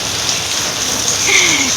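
Heavy rain pours steadily and loudly on a dark morning while water floods a building, forming a dense, unbroken hiss with no voices heard.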